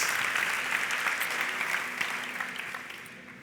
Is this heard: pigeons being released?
no